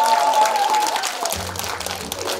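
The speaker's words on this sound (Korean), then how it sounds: "큰 박수 한번 주시면 노래 시작해볼게요." An audience claps together at an invited concert performance during a disability community festival in Yongin, a brief burst of crowd applause. A low musical accompaniment begins under the clapping.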